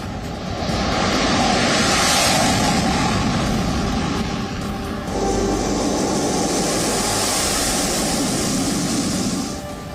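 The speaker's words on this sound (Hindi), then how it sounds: "भारतीय वायुसेना के घातक लड़ाकू विमान एक एक करके एक्सप्रेसवे पर बनी एयर स्ट्रिप पर उतरे और फिर आसमान की तरफ उड़ गए" Indian Air Force fighter jets on an expressway airstrip, a loud, sustained broadband jet roar lasting throughout, with the engine whine shifting partway through as an aircraft passes close by; no speech.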